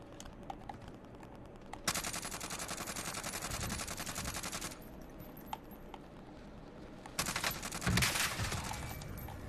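Heavy M1 gunfire in a video game: loud, dense bursts of rapid shots, one long sustained volley followed by shorter sharp bursts near the end, with scattered mechanical clicks in the quieter gaps.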